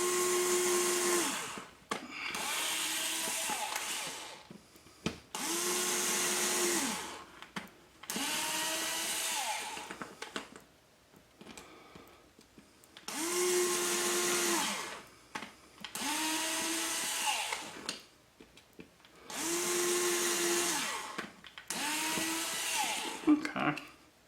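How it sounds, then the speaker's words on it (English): A power drill with a 1/16 inch bit boring pilot holes in a Box Quad frame, sounding as seven or eight loud, steady whining bursts of a few seconds each, separated by short quiet gaps. "We're going to go ahead and use the 1/16 inch bit. We're going to drill a pilot hole in each one."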